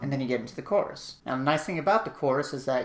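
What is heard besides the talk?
No everyday noise stands out behind the speech.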